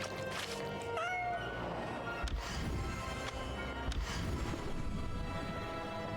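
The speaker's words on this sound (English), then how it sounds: "I'm hearing a cat. Yep. Do you hear that cat?" A cat meows once or twice, rising then falling, over a constant wash of background noise, with no voices.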